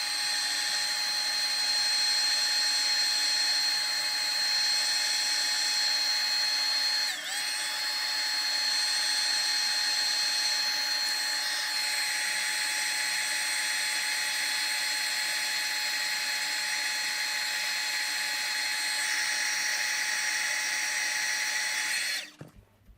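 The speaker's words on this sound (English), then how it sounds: "set that with the heat gun." A heat gun runs continuously for over twenty seconds while drying and setting embossing powder on a floral card, giving a steady, close, high-pitched blowing whine with a slight dip partway through before it cuts off.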